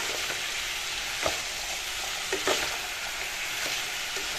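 Coriander and cumin powder being stirred in a hot frying pan, a loud continuous sizzle with periodic scraping strokes of a spoon, close up and without talk.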